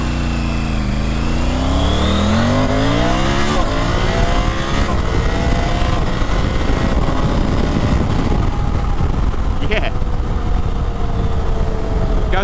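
A Triumph Tiger 900 Rally Pro motorcycle pulls hard through the gears on a damp road, engine note climbing steadily in pitch and staying loud and continuous alongside wind rush, with no talk.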